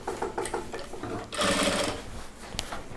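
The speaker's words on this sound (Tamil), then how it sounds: "சுடிதாருடைய பாட்டம் பீஸ் இது வந்து இப்போ நம்ம ஸ்டிச் பண்ணுறோம்." A sewing machine stitches the bottom piece of a chudidhar pant in cloth, running in short rhythmic bursts and then a longer, louder continuous run, close up and with no talking.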